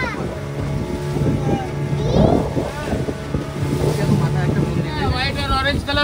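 A motorboat engine drones beneath gusting wind buffeting the microphone on a boat ride off Goa, with people talking over the steady hum as the craft moves along.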